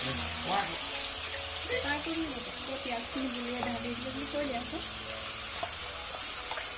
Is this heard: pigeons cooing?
no